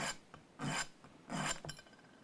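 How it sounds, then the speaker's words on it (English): Steady strokes of hand sanding shape the fret ends of a Gibson Les Paul Custom to a bevel. Two long, close rasping passes are set among a few lighter scrapes, and nobody talks. "Hand sand it to a bevel."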